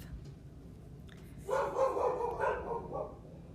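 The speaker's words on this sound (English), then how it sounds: "They're still barking. It's probably the dog in the next yard." Dogs barking in a repeated burst, moderately near, likely a dog in the neighboring yard, after a quiet stretch with low background hum.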